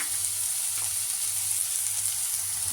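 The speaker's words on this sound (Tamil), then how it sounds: "பூண்டு சின்னதாக இருந்துச்சுனால அந்த பூண்டு போடணும்." Garlic frying in hot oil for chilli idli, a steady, close, loud sizzle with a low hum beneath it and no voices.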